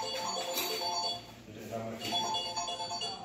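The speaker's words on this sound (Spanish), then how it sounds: "Está sonando un teléfono acá." A telephone rings in a house in Mexico, with repeated electronic warbling tones under close talking that runs through the whole moment.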